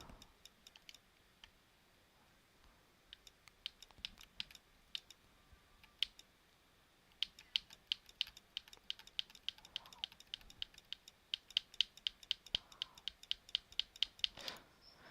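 Computer keyboard keys are pressed and mashed at random while someone tries out the controls of L.A. Noire, giving sparse clicks at first, then dense, rapid, close clacking bursts.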